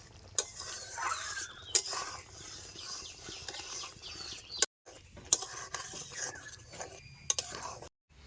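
Tamarind pickle with sugar is stirred and cooked down in a pan, soft scraping strokes with a light sizzle and occasional sharp clinks of the spoon against the pan, broken by two brief silent gaps.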